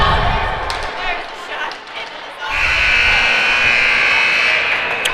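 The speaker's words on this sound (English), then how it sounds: "At the sound of the buzzer, that brings us to the end of the first period." A loud, sustained electronic buzzer ends the first period of a 12U youth ice hockey game, blaring through the arena over crowd noise and holding steadily to the end.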